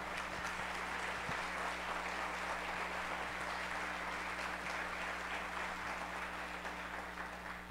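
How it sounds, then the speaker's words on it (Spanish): An audience at a smart-cities inauguration ceremony applauds faintly and steadily, sounding distant, over a low electrical hum for several seconds. "También un aplauso, por favor, a la maestra."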